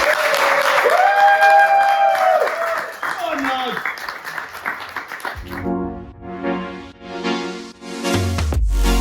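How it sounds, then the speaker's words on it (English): Audience at a tech meetup event applauding a speaker, with a voice over tonal sounds in the first half, then a scattered round of clapping in the room as things settle. "thank you for the round of applause"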